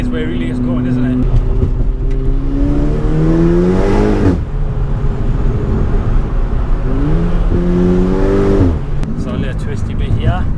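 A 435bhp VW Golf GTI engine revs hard under acceleration, its note climbing in two long surges from a low growl to a high wail, each cut sharply at a gear change, loud and close with a voice speaking over it.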